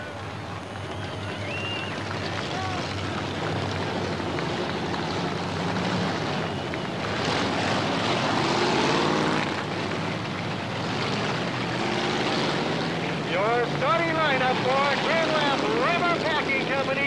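Bomber-class race cars roar out of turn four at Peoria Speedway during a 10-lap feature, a steady loud engine drone with a public-address announcer talking over it throughout.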